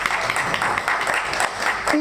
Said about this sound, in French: Vous l'applaudissez beaucoup